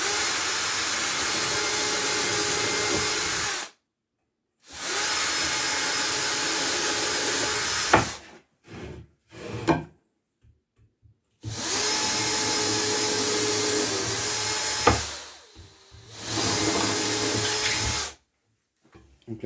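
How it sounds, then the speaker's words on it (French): A power drill boring holes into the ends of wooden pieces on a workshop bench, running in several loud sustained bursts of motor whine separated by brief pauses and short clicks, close by with no talking. "je vais venir percer des trous sur les bouts pour éviter que le bois craque."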